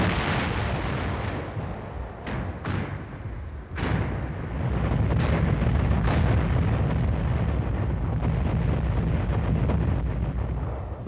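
Heavy artillery guns fire in an old military history film, with loud booming blasts and rumbling echoes. Several shots land in the first few seconds, then a sustained roaring rumble continues to the end.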